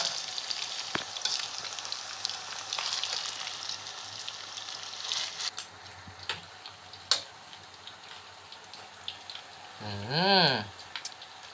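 Banana blossom and minced pork fritters fry in hot oil with a steady, crackling sizzle and occasional sharp pops, and a brief warbling tone rises near the end.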